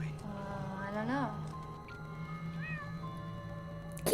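A cat meows close by, one drawn-out rising and falling call followed by a softer brief meow, over a quiet low hum, with a sharp knock at the very end.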